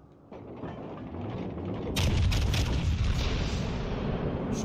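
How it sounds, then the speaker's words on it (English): Naval gunfire from warships in World of Warships Legends, a sustained rumbling barrage that swells louder midway, with dull booms blending into continuous low roar. "But we're gonna go ahead and shoot him again."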